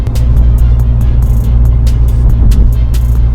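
A Mini Cooper GP3 fitted with KW shock absorbers driving along a road, a loud steady low engine and road rumble heard from inside the car, with faint ticks and rattles over it.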